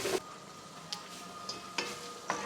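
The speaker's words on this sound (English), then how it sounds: "we're going to saute this about 4 or 5 minutes" Vegetables and garlic sautéing in a pan for Cajun red beans, giving a faint, steady sizzle with a few soft clicks of stirring scattered throughout.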